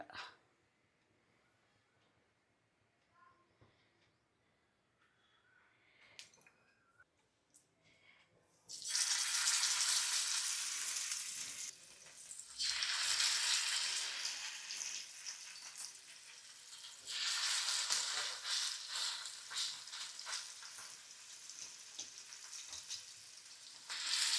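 Near silence gives way to a loud, hissing sizzle of fish frying in hot oil in a pan, South Indian style, swelling and easing but continuing to the end.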